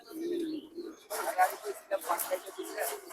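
A male domestic pigeon cooing nearby with a low, soft burbling call, followed by people talking and other bird sounds.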